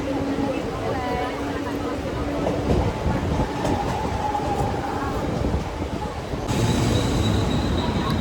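Train at CST railway station in Mumbai, a continuous rumble with squealing wheels and a faint tonal whine, people talking over it throughout.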